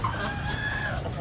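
Aseel chickens, a rooster among them, clucking close by in a short burst of bird calls over a low background murmur, with no speech.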